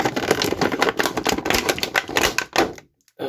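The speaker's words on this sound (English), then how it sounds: "sorry about the loud packaging" Loud plastic and cardboard packaging of a Marvel Legends Gamerverse Venom action figure being unboxed, a close, busy run of crinkling, tearing and rustling that stops abruptly before a brief quiet gap and a final rustle.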